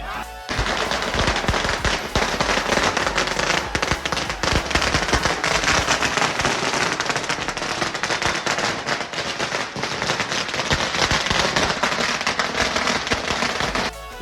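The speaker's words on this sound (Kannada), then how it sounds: "RCB ಫ್ಯಾನ್ಸ್ಗಳು ಯಾವ ಥರ ಪಟಾಕಿ ಹೊಡೆದು ಸೆಲೆಬ್ರೇಟ್ ಮಾಡಿದ್ರು" A long, dense barrage of firecrackers set off by RCB cricket fans celebrating a finals win, loud and continuous with rapid overlapping cracks and pops for the whole stretch, no voices standing out.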